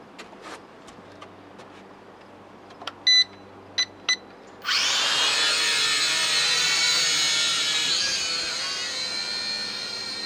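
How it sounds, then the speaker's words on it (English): A few short sharp beeps from a quadcopter's radio transmitter sound first, then a loud steady high-pitched quadcopter motor whine starts abruptly and keeps going. "you're gonna hear the beeps from my radio"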